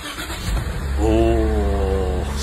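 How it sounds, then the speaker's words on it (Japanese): A Toyota Zero Crown engine cranks and fires, then settles into a steady, smooth idle, recorded close and loud with a brief voice near the start. "ちょっとねゼロクラウンのエンジン音を聞いてみましょうか。"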